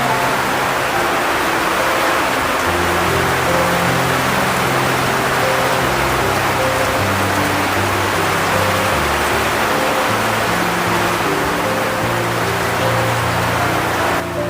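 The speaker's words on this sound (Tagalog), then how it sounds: "Bumabagyo pa naman pati at ang lakas ng ulan" Heavy rain pours down steadily during a storm, a dense, continuous roar of water on surfaces throughout, loud and close, with low tonal hum of music or wind beneath and no voices.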